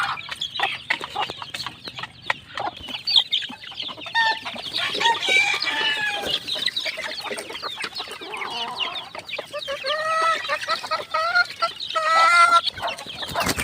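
Young chicks in a small poultry pen cluck and peep close by, with scattered soft clucks early on and a burst of high, rising chirps toward the end.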